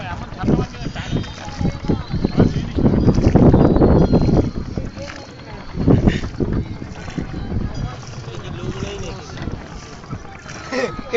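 A boat on the Ganga river carries people who talk throughout, over water wash and wind buffeting the microphone, with a louder rushing surge a few seconds in.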